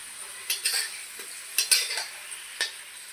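Ground spice paste of poppy seeds and melon seeds going into hot oil after fried potatoes, for a light fish curry: a quiet hiss with several scraping clinks of a spoon against the pan.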